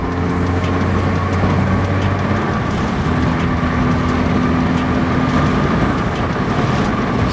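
A car with a Perrin oil cooler cruises in fifth gear on the road, its engine drone steady and unbroken beneath a constant roar of road and wind noise.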